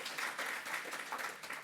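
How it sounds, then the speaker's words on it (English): An audience at an end-of-year celebration gives a round of applause for staff, a short, fairly faint burst of many hands clapping together. "So a big round of applause for our sensational staff."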